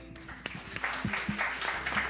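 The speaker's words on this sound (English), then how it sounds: "I ask for an applause." Audience applause closing a discussion session at an economics conference, a scattered patter of clapping hands at fairly low volume with a few distinct louder claps standing out.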